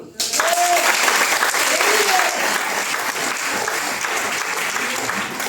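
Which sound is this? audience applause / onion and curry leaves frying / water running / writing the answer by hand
audience applause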